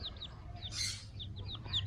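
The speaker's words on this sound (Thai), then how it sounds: "เรียกว่าไก่แจ้ซาลามอนะครับ" Small Serama (Japanese bantam) chicks about twenty days old give short, high clucks and peeps in a brooder cage, several soft calls scattered over two seconds with a brief louder burst midway.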